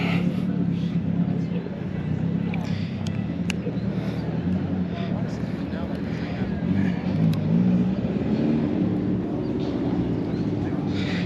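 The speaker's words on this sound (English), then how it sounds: "And more cars keep on coming." Custom cars roll in to a Japanese custom car event, a continuous low engine rumble and traffic drone from nearby vehicles, with people talking over it throughout.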